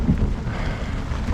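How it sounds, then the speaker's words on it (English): Low, rolling rumble of thunder during a storm in the Flinders Ranges, with steady rain noise over it, sustained and fairly loud throughout with no voices. "a bit of thunder"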